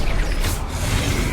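A Diffindo cutting spell cast in the Hogwarts Legacy video game, a dense mechanical whoosh with ratcheting, creaking texture that stays loud and steady for over a second.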